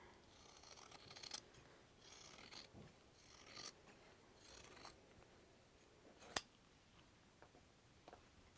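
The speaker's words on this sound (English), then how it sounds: "I'm going to cut the inner circle here." Scissors cutting fabric around the inner circle of a template: a few quiet, separate snips and rasping blade strokes spaced through the stretch, close by and with no talking.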